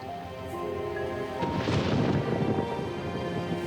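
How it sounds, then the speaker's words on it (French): Deep rumbling thunder builds from a storm drawing near, swelling into a broad roll after a quieter start and lingering to the end. "On dirait qu'une tempête approche."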